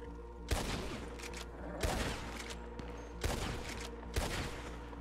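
Gunfire aimed at a boat in the video game Red Dead crackles in four loud volleys of rapid bursts, separated by brief lulls over a constant low rumble.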